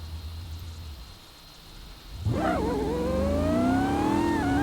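A Corvette ZR1 engine in BeamNG.drive starts from a low idle hum, then surges into a loud rev that climbs steadily in pitch and holds strong to the end.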